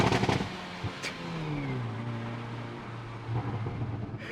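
A Hyundai i30N hatchback's exhaust snarls through a short rev, with sharp pops and crackles at the start and a rising, then steady engine note, fairly close and moderately loud.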